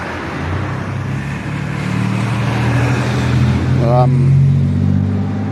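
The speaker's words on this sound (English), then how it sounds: "I'm in the way of the traffic here" Road traffic passing beside a roadside garden of prickly pear and agave, a vehicle engine swelling loud and near as it goes by, with a person talking over it.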